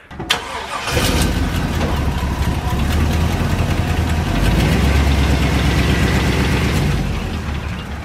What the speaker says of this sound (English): I gotta first back the truck up